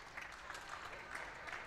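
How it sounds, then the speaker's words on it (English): Crowd at a girls' varsity high school basketball game applauding player Maya Fox, with steady clapping from many hands, faint and somewhat distant. "Maya Fox gets a nice hand from this crowd"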